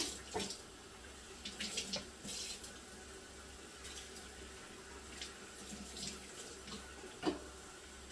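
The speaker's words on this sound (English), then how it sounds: "So then I'm going to add the water." Tap water running into a cooking pot in a home kitchen, a soft continuous stream with occasional clinks and knocks of the pot scattered through, quiet and steady, no voices.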